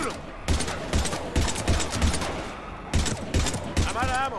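Rapid gunfire in a shooter video game, repeated close bursts of shots in an uneven rhythm with shouted voices and music mixed in.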